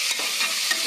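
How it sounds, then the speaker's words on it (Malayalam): Onions and green chillies stir-fry in hot oil for a biryani, making a bright, continuous close sizzle with faint stirring texture throughout the short moment. "സവോളയും പച്ചമുളകും നല്ലോണം ഒന്ന് വഴറ്റിയിട്ട്"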